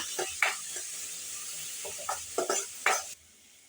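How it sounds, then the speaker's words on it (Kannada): Chopped onions fry in a pan with a steady, soft sizzle, broken by several sharp clinks and scrapes of a spoon stirring against the metal. "ಅದನ್ನು ಹಾಕೋತಾ ಇದ್ದೀನಿ ಈರುಳ್ಳಿ ಅಷ್ಟೇ ಚೆನ್ನಾಗಿ ಫ್ರೈ ಮಾಡ್ಕೊಳ್ಳೋಣ"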